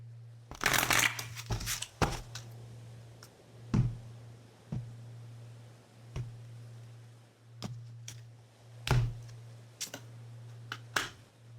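Divine Nature oracle card deck being shuffled by hand, crisp riffling bursts followed by a series of separate taps and flicks spread over several seconds, close and clear with a steady low hum underneath.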